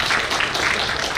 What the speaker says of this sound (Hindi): एक बार तालियां बजा दीजिए जरा।